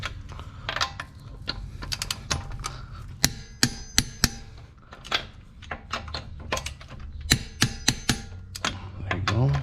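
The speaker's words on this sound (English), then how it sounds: "you gotta hear it click, and that's how you know" A torque wrench ratchets and clicks sharply while lug nuts on a car wheel are tightened in a crisscross pattern, giving irregular bursts of crisp metallic clicks with brief pauses between nuts, close to the microphone.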